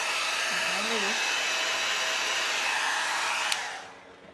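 A hair dryer blows steadily on a leaf in a crafting session, a loud continuous whooshing drone that holds for over three seconds before switching off and winding down. A brief murmured voice can be heard under it.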